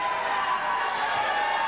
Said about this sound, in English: And listen to this crowd. They love JCW.